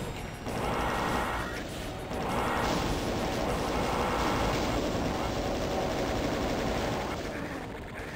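A chaingunner fires in the Doom TNT: Revilution game, giving dense bursts of rapid gunfire mixed with explosions and game noise that run steadily for several seconds.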